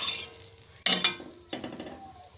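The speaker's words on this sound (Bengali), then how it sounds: "ভালো করে তেলটা একটু চাড়িয়ে নিই, যাতে বড়াগুলো খুব সহজেই উঠে যায়।" Heated mustard oil is stirred in a pan before frying fritters, with a few sharp metallic scrapes and clinks of a utensil against the pan over a faint background sizzle, close by and without talk.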